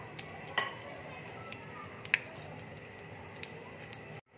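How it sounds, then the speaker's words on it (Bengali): Panch phoron, dried red chillies and bay leaves sizzle in hot oil in a pan, a soft, steady crackling hiss with a few sharp pops and drips, fairly quiet, with no talking. "এবার আমি পাঁচফোড়ন দিয়ে দিচ্ছি, শুকনো লঙ্কা দিয়ে দিচ্ছি আর তেজপাতা দিয়ে দিচ্ছি"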